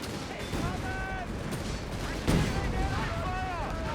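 Grenade launchers fire in a Company of Heroes 3 match, a scattered run of muffled battle blasts and gunfire with one heavier thump midway, overlaid by a commentator talking throughout.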